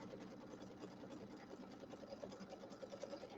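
Sewing machine running a continuous tack-down stitch through fabric for a Halloween settee pillow, a steady fast whirring hum with an even mechanical chatter, quiet and uninterrupted with no talking.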